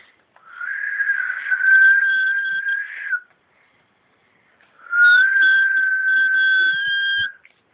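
A person whistles two long, sustained notes separated by a short pause, each held for a few seconds, clear and close.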